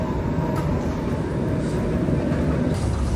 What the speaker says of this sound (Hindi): ये आ गई भाई एयरपोर्ट जाने वाली मेट्रो,